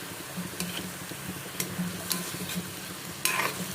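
Native chicken sautéing in a pan for tinola, a steady low sizzle with occasional sharp scraping ticks from stirring, close and fairly quiet.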